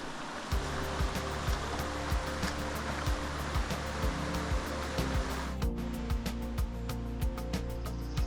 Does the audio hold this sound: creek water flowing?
yes